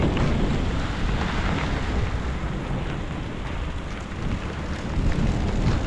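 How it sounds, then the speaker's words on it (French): Heavy storm rain pours steadily over an urban area near a stadium in Sidi Bel Abbès, Algeria, with wind buffeting the microphone and a constant loud roar throughout. "Ça c'est un orage"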